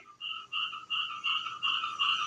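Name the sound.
toads croaking at night beside a monk's hut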